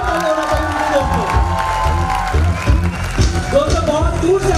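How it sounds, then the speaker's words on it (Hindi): Crowd at a recognition program in Indore cheering and clapping, with applause and whoops sustained for several seconds, loud and close. "एक बार जोरदार तालियां होना चाहिए"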